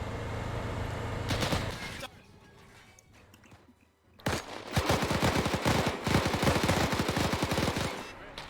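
Gunfire in the video game Arma 3, set in a French Resistance campaign: a burst of shots, a quieter lull, then sustained rapid automatic fire crackling loudly and densely to the end.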